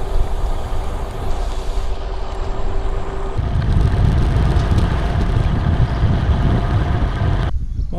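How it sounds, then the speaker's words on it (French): A steady roar of highway traffic rushes past, loud and continuous, with wind-like rumble and no talk, heard from a bicycle beside a French autoroute between Toulouse and Perpignan. "Voilà l'autoroute."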